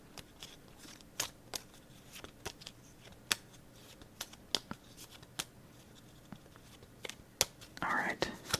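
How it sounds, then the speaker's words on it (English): Playing cards are overhand shuffled in a quiet room, with soft, irregular slaps and flicks as small packets drop, one after another, plus a brief rustle near the end; a whispering voice is present. "we're just going to do a simple overhand shuffle"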